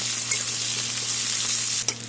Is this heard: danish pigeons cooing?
no